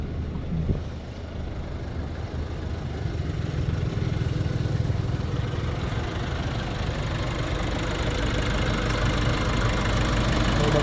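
A Nissan Navara VL 4x4 automatic pickup engine idles steadily, a low, even mechanical hum that stays constant and fairly close for about eleven seconds with no voices.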